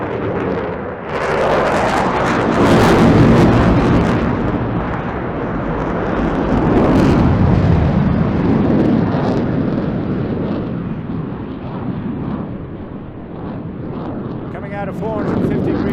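An RAF Typhoon jet pulls a max rate turn during an airshow display at Eastbourne, a loud, continuous, rumbling roar that swells and eases with wind buffeting, under a commentator's voice.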